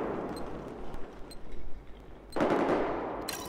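Automatic gunfire in Battlefield 4 close-quarters Shanghai combat, rapid bursts of shots with a heavier blast near the end, moderately loud and close.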